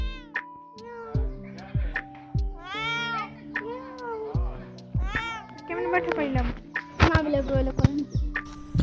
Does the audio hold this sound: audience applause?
no